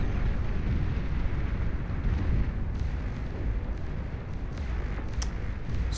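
Tremor artillery units in Beyond All Reason keep up a dense, steady barrage of rumbling blasts with scattered sharper cracks, a continuous distant-sounding roar of explosions with no talking.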